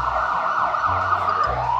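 An ambulance siren wails in a continuous rising and falling tone, fairly close and loud, with no other sound competing.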